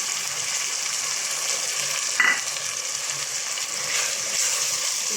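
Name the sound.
sautéing with garlic paste for a fish recipe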